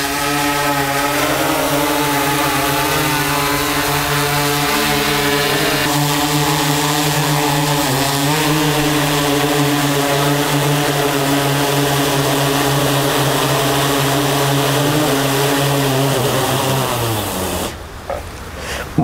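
DJI Inspire 2 and Phantom 4 Pro drones hovering nearby, a loud continuous propeller whine with shifting pitch, ending abruptly as the motors cut near the end.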